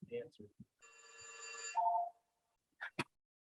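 A telephone rings faintly in a meeting room, one long trilling burst with a couple of short chirps after it, set among brief bits of nearby talk.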